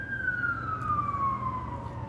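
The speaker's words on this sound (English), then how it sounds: "I guess there's some siren" A single siren wails outside, its tone gliding slowly downward over about two seconds, steady and moderately distant above a low rumbling background.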